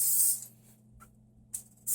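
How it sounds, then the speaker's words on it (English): Cooking spray is sprayed onto a fish fillet in a few short, sharp hissing bursts with quiet pauses between, close and fairly loud, with no talking. "I usually take a little bit of spray, and we don't have to use butter spray"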